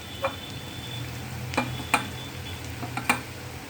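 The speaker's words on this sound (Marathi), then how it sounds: "हे चांगलं मिक्स करून घ्यायचं" Poha being mixed with salt and grated coconut, a low steady rustle of stirring punctuated by four or five crisp clicks of the spoon against the vessel, close and fairly quiet.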